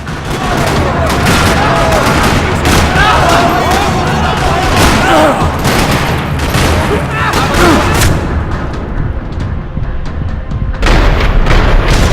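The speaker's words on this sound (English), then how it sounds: "Another parking lot rattling with gunfire." Gunfire rattles across a parking lot in the video game Max Payne 3, dense bursts and booming shots overlapping loudly almost continuously, easing briefly before another burst near the end.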